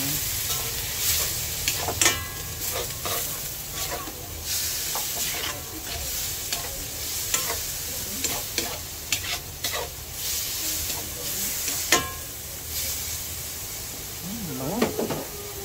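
Bitter gourd (ampalaya) sautés in a hot pan, with a continuous oily sizzle broken by repeated scraping and clacking of a utensil stirring the slices.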